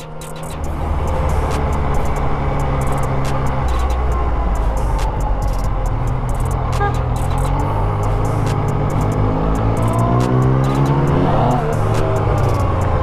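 A Volkswagen Scirocco with its remote-controlled exhaust valve opened, heard at night as a steady, loud engine drone with revving that holds for most of the stretch and rises and falls slightly.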